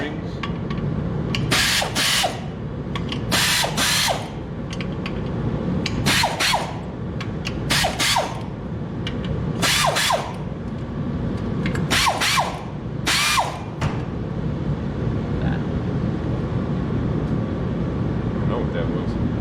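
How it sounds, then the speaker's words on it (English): A power tool loosens the clutch pressure plate bolts on a Minneapolis Moline JetStar 3 Super tractor to release spring tension, sounding as about eight short, loud whirring bursts separated by quieter pauses. "Now we're going to take the tension off the springs."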